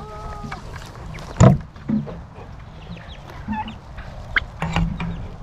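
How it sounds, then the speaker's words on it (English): A turkey hen with her chicks on a farm, giving scattered soft clucks and small peeping calls at close range, mixed with light outdoor background noise and a few brief louder knocks. "Want me to show them the turkey and her chicks real quick?"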